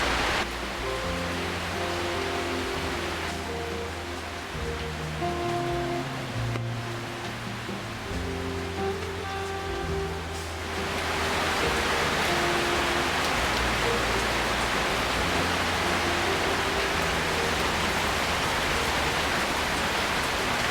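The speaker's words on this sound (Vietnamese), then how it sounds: "Mưa lớn luôn." Heavy rain pours down steadily, a dense loud hiss that grows heavier and fills the whole scene about halfway through, with low rumbling beneath it at a countryside workshop making handmade rice cakes in Dong Thap, southern Vietnam.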